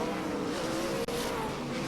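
Race cars circle a track in heavy lap traffic at a 1995 night B main event, a dense, steady engine roar filling the whole stretch with a brief dip midway, crowd-level noise and no clear talk.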